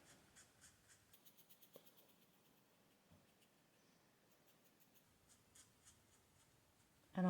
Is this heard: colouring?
yes